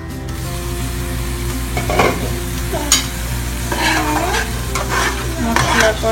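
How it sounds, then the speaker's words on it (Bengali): Spice paste for prawn malai curry sautés loudly in a pan, a steady sizzle running the whole time with scraping stirring strokes and occasional clinks of utensil on metal, no voices. "এখন আমি মশলাটা কষাবো 2 মিনিট।"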